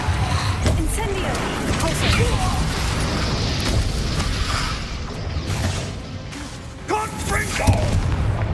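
An Incendio fire spell is cast in Hogwarts Legacy, a dense roaring burst of flame that rumbles continuously, with a few sharper crackling pops and game sounds layered over it.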